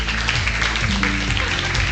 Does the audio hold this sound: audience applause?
yes